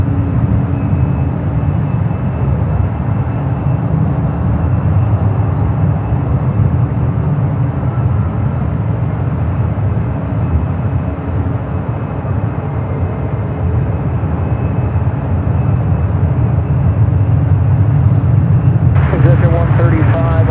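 Southwest airliner departing runway 28 right at San Francisco airport, a sustained loud jet roar rumbling steadily from a distance for about twenty seconds, with a voice talking faintly over it.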